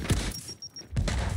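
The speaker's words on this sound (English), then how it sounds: "Oh, nice grenade." Two heavy grenade blasts in Gears 5, loud booming bursts separated by a brief lull, with a faint electronic tone between them.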